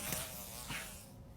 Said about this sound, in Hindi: क्या वो एक मक्खी थी?